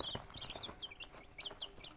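Small birds chirping and clucking in quick, high-pitched bursts at close range, with faint rustling underneath and no talking.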